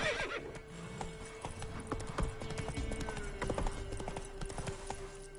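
Horse hooves clip-clop in a quick galloping rhythm in The Witcher 3 on PS5, close and steady for the whole stretch, with a whinny near the start and a low game tone running underneath.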